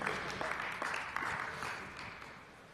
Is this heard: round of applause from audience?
yes